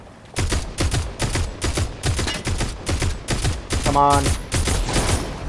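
Gunfire in a battle-royale video game: rapid bursts of shots in a steady rhythm, loud and close, repeating through the whole stretch while a player briefly speaks over it.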